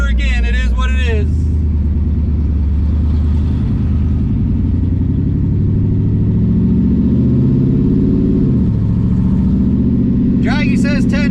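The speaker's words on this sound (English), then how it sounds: "But banging that limiter, that's all we're gonna run all day long." A drag-race car engine bangs off the rev limiter, a loud, steady, close droning roar held for most of the run with a quick drop near the end; voices talk briefly at the start and finish.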